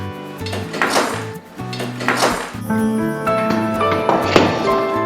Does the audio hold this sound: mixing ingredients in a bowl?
yes